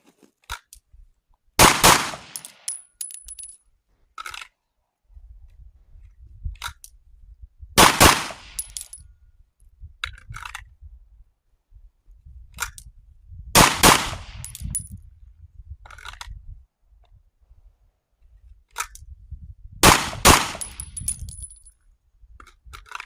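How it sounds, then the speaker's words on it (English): Springfield Armory Prodigy pistol fired in controlled pairs at a range, four sharp, loud double reports spaced several seconds apart, with quiet handling noise between them and no talk. "we're going to shoot the center target. There'll be 2 shots, and it'll be a controlled pair"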